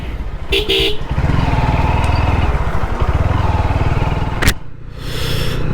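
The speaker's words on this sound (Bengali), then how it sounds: "বাইরের নয়েজটা একটু বেশি আসতে পারে বন্ধুরা কারণ ভাইজোর খুলে রাইড করছি" Loud, close motorcycle engine drone with heavy wind rush from riding with the helmet visor open, plus a couple of brief horn toots from traffic.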